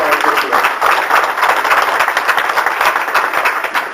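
Brief applause from a conference audience during a live panel session, a close, busy patter of many hands clapping that holds steady for a few seconds.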